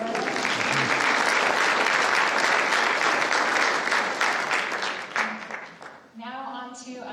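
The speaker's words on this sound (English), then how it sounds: "give her, a round of applause" Audience applause at an outdoor river-themed gathering, dense clapping that fades out near the end, followed by a voice starting to talk.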